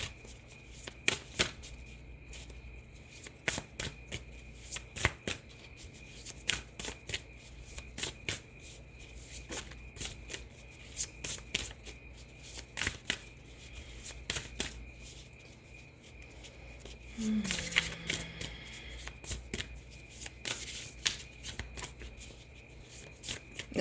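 Tarot cards are shuffled by hand in quick, crisp riffling bursts, close and fairly quiet, with short pauses between runs and no talking.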